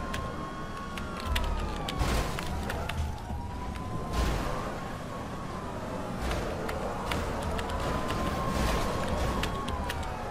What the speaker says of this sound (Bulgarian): Леле, те са с полицейски коли.